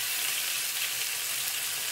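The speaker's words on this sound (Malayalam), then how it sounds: "വെളിച്ചെണ്ണ നന്നായിട്ട് ചൂടായിട്ടുണ്ട് ഞാനപ്പോൾ അതിനകത്ത് ആ മീൻ കഷ്ണങ്ങൾ വന്നിട്ട് ഫ്രൈ ചെയ്ത് എടുക്കാം" Fish pieces fry in hot coconut oil, a steady, close, bright sizzle holding evenly throughout with no talking.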